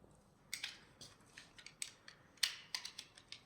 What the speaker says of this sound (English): Carefully cut your zip ties off.